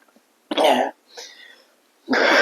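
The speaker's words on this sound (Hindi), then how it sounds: "अब मुझे भी खांसी आ रही है" Three separate coughs, close and fairly loud, spaced apart with short silences between them.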